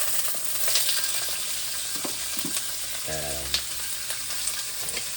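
Onions and bacon sizzle in vegetable oil in a pan, a steady bright frying hiss with occasional stirring scrapes and clinks, close and moderately loud, with a brief spoken word.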